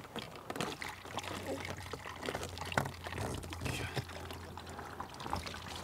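Rainwater runs down a roof gutter and pours into a bucket through a diverter, a steady nearby trickling splash with a low hum and faint voices in the background.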